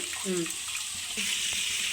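Water pours into a pan of silver fish curry in a home kitchen, a steady splashing rush running the length of the moment with a brief faint voice early on.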